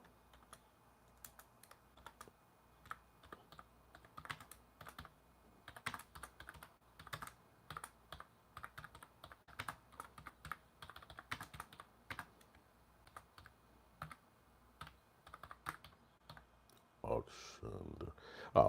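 Rapid, irregular typing on a computer keyboard, with many light clicking keystrokes in bursts and short pauses, fairly quiet and close, ending in a few louder clacks.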